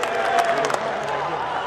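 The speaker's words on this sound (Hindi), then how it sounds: "कृपया जोरदार तालियां बजाकर राहुल जी का जयपुर में आगमन" A large crowd at a farmers' rally in Jaipur applauds in a dense, loud, continuous roar of clapping and cheering, with an amplified voice over the noise.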